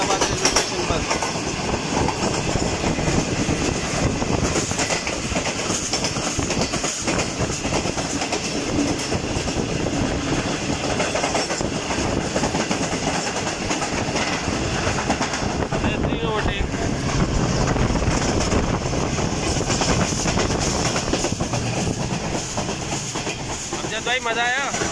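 The Karakoram Express rumbles loudly past the Allama Iqbal Express at Sadiqabad station, a continuous roar of wheels and rail clatter that runs throughout without a break.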